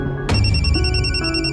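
A telephone rings in a Marathi television drama scene, a bright electronic ringtone that starts abruptly and repeats its tones steadily and loudly, with no talking.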